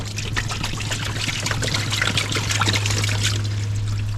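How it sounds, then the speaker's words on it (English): Water from a hose pipe trickling and splashing as it rinses through the mud-clogged scuttle drain of a Dacia Sandero Stepway, a steady close spatter and dribble with a low constant hum beneath. "do you think I should get a hose pipe and just wash it through?"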